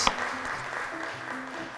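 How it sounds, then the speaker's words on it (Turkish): Brief, moderate clapping from a studio audience on a quiz show, cheering two competing tables, steady and somewhat distant across under two seconds. "Sarı masaya da mavi masaya da kocaman bir alkış."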